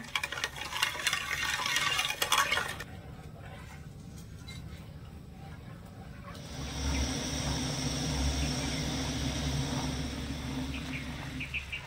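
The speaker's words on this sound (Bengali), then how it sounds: "নেড়ে ছেড়ে চিনিগুলো শুধু একটু গলিয়ে নেব" A spoon stirring sugar and water in a pan to melt it into syrup: a scraping, swishing burst at first, then a quieter lull, then a steady low hiss with a hum beneath.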